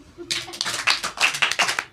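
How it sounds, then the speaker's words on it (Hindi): Classroom students clapping their hands in a short burst of quick, close claps, several pairs of hands overlapping in an uneven rhythm for under two seconds. "पास हो गई, ताली मार दे"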